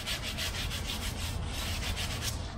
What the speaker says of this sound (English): So what I'm gonna do is just give this whole thing kind of just a light sanding,